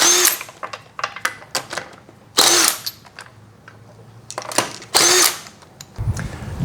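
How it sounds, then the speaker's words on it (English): An impact wrench spins lug nuts off a Nissan Xterra or Frontier front wheel in sharp, rapid bursts: several short rattling blasts with two longer loud runs, close up and separated by brief pauses. "And then I'm just going to spin them off with this impact."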